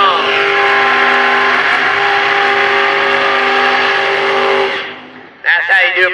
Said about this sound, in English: That's how you do a burnout right there, folks. Skinny getting her done in the Camaro.